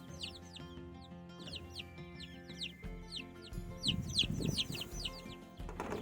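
A mother hen clucks softly and repeatedly while her chicks peep in quick high chirps. The sounds are quiet and close, with a rustling shuffle partway through.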